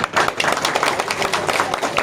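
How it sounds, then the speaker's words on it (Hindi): An audience at a political event applauds to welcome a prospective assembly candidate. The clapping is close, loud and dense, a steady burst from many hands that lasts the whole moment. "मैं चाहूंगा उनका जोरदार ताली बजा के उनका स्वागत किया जाए"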